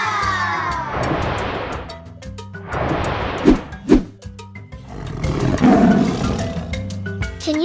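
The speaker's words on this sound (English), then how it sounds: "This voice is tiger." A tiger roars in several long, rough bursts separated by short gaps, with a couple of sharp peaks in the middle, loud and close over a low steady background.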